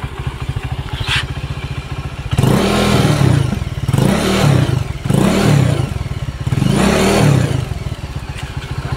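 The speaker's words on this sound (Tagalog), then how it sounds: "I-rev natin mga kabigote." A Honda Beat FI scooter with a broken V-belt sits at idle. Its engine revs up in four loud, close bursts, each falling back to a rattling idle.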